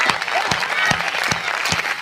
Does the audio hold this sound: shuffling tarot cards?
no